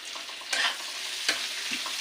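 Finely chopped whole onion sizzles in hot oil in a pan while a spoon stirs it, a steady frying hiss with two sharp scraping stirs standing out.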